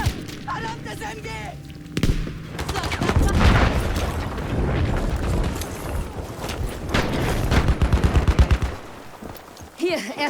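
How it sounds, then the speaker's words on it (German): Battlefield V firefight with machine gun fire: rapid rattling bursts and booms under shouting voices, the chatter of the gun growing dense and loud toward the end. "Verdammtes MG!"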